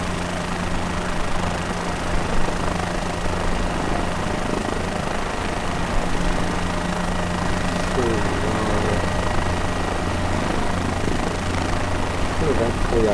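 A helicopter on a heli-tour over Brazil's beaches gives off a constant drone of engine and rotor. The drone stays steady and fairly loud for the whole stretch, with a voice talking over it.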